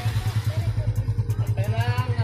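A new semi-automatic motorcycle idles with a steady, rapid low thumping pulse close by, a light clatter layered on top and brief higher engine sounds partway through.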